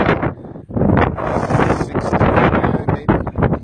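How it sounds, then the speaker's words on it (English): Wind buffets a microphone outdoors on a breezy day, making a loud, continuous rumbling roar that swells and drops with each gust, with no voices. "It's a little windy out."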